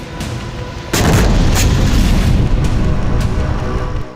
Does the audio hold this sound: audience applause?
no